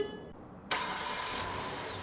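A 2018 Kia Sedona started by remote starter: the engine cranks and catches abruptly, then settles into a steady idle, heard nearby and on its own without talk.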